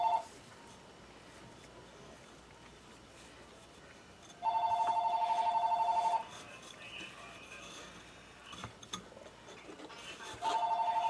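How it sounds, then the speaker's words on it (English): A telephone rings indoors in two clear electronic bursts with a quiet gap of low room noise between them, the second ring cut off at the end. "Oh, my phone is ringing, but it will go to the answering machine."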